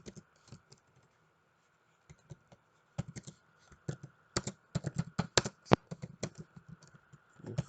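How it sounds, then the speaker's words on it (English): Someone types on a computer keyboard in quick bursts of close, crisp key clicks, with short pauses between clusters and a longer quiet stretch near the start. "So I'm going to type that out."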